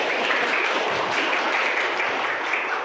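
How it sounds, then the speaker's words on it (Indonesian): Students in a classroom give a classmate a round of applause, dense steady clapping from a group that stays loud throughout. "Beri aplaus kepada Rizky."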